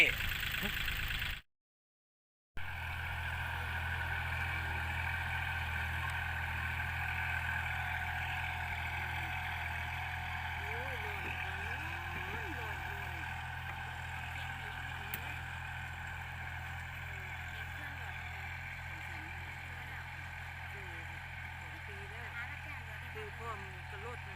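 Tractor with a corn seeder attached, its engine running in a steady mid-pitched drone across a large cornfield, continuous after a brief dropout at the start, with someone speaking Thai over it.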